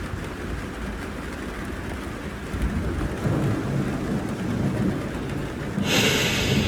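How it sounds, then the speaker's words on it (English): A thunderstorm at Garden of the Gods, with a broad, continuous wash of rain and low rumbling thunder that swells in the middle, loud and close, with no talking. "The storm is upon us, Michael."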